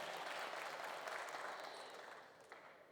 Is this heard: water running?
no